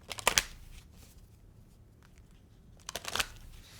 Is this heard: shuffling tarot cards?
yes